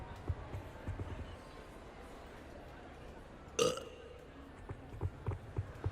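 A single loud, close burp erupts midway through a Hogwarts Legacy game scene, standing out alone against a low ambient bed with faint soft thuds.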